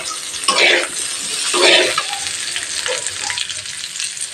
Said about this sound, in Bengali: বয়েল করা আর ভাজা সবজি অ্যাড করে দিলাম